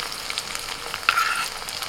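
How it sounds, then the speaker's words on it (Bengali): Onion paste fries in hot oil, a close, steady crackling sizzle with a slightly louder burst partway through. "ওই তেলের মধ্যে আমি দিয়ে দিচ্ছি পেঁয়াজ বাটা। পেঁয়াজটা একটু ভেজে নিয়ে"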